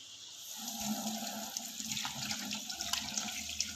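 Water runs steadily from a kitchen sink tap, a soft continuous splashing stream heard close by with faint clinks, no talking.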